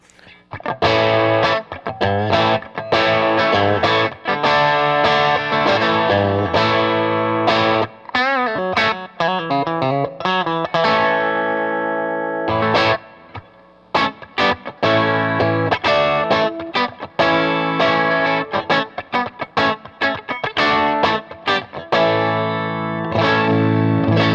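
A distorted Fender Vintera II Road Worn '60s Stratocaster on its bridge pickup plays a busy run of chords and single notes, crunchy and saturated, with a brief wobbly bend midway.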